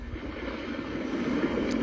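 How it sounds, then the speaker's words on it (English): A white noise sleep machine plays an ocean setting, a steady rushing wash like surf and wind, with no distinct breaks and no speech. "ocean,"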